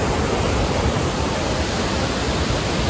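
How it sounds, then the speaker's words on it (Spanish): Peguche waterfall at night roars as a dense, steady, broadband rush of falling water, loud and close, with no voices over it. "ahorita ya llegamos a la cascada de Peguche"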